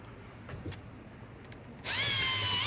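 A power tool starts up abruptly after quiet shop ambience, whirring steadily while sanding a 1961 Shopsmith Mark 5 way tube with 400 grit sandpaper, close and loud.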